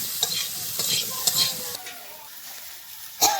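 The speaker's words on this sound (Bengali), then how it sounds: "আমি একটু নেড়ে নিই লঙ্কা দিয়ে, লবণ দিয়ে।" Chilli, salt and turmeric are stirred into sizzling oil with frying potatoes in a pan. A spoon scrapes and clicks in irregular strokes over a soft, continuous sizzle, ending in one sharper scrape.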